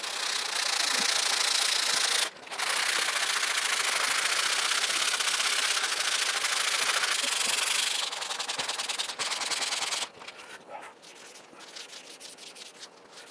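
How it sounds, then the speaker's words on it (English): Sanding a wooden guitar neck profile by hand, a loud continuous rasping rub that runs for about ten seconds, breaks off briefly, then resumes as shorter, lighter strokes. "I have sanded it down"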